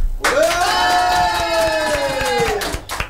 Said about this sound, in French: Un tonnerre d'applaudissements s'il vous plaît dans le studio